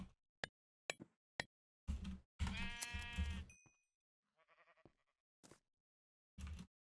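Sheep in a video game bleat loudly in a quavering call, and short clicks and taps from play sound around it in a quiet scene.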